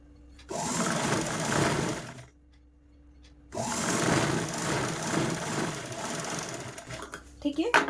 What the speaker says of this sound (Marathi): इकडनं आपल्याला ही झिप स्टिच करायची आहे